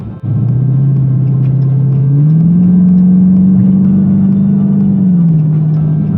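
The V8 engine of a 2018 Dodge Challenger R/T Plus rumbles and revs, the throaty drone rising briefly in pitch before settling, loud and close with no talking.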